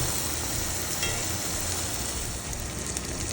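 Smash burger patties and onions fry on a griddle with a loud, steady, close sizzle that holds evenly throughout and has no talk over it.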